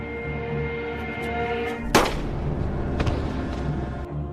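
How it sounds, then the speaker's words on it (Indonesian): A single sharp pistol shot in a Yakuza revenge action film, one loud crack partway through, set against a steady tonal soundtrack with a fainter thump afterward. "dia tiba-tiba mengarahkan pistolnya ke polisi muda itu dan menembaknya di kepala"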